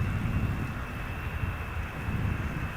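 KLM Boeing 787-9 Dreamliner on KLM flight 741 from Cartagena arriving at Amsterdam Schiphol, a loud, steady low jet engine roar with a thin high whine held on top, with no talking.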